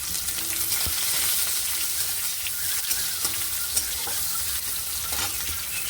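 Chopped onion and dried red chilies frying in a generous amount of hot oil, giving a steady, loud, close sizzle with occasional stirring clinks throughout.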